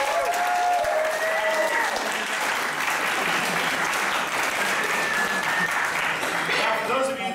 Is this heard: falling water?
no